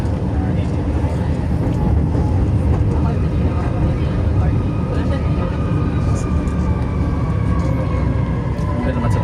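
MRT train at Ayala Station in Manila, heard from the platform: a steady, loud rumble of the train running continuously throughout, with faint rising whine tones and a voice talking underneath.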